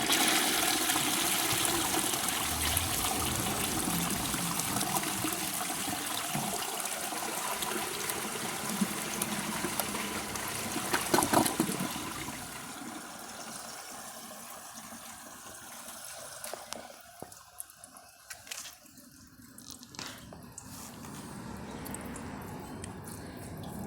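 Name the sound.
1945 Kohler toilet flushing a washcloth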